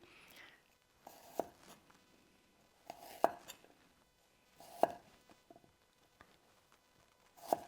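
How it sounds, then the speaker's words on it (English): Knife cutting through ginger root on a cutting board, squaring it into a cube: a few sharp, separate chops spaced out over quiet moments, close and moderately loud, with no talking. "I want to square up my ginger root. So I'm actually going to cut it into essentially a cube."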